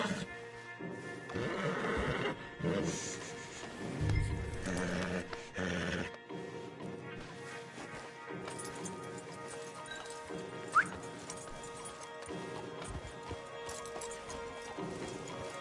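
Horses and stallions in the video game Red Dead Redemption 2, with snorts, neighs and hoof clops alongside game ambience and music, a moderately close cluster of animal sounds early on, then quieter.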